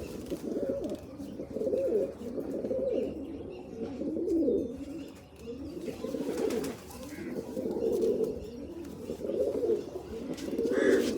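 Pigeons coo steadily in a loft where a keeper shows his breeding pair, the low throaty calls overlapping in a continuous, fairly loud murmur with a few faint chirps above.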